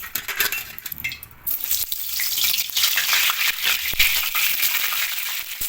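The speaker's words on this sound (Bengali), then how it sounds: "এবার মাছের মাথাটা ভেজে নেব।" A fish head rubbed with turmeric and salt fries in hot oil, a loud, continuous crackling sizzle with brief clinks and pops as it is handled in the pan.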